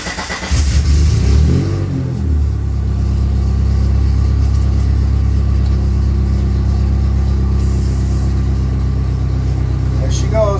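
A Dodge Neon stock car engine cranks over and catches, then runs loud and close with a rough, steady idle and light revving, while a person talks over it.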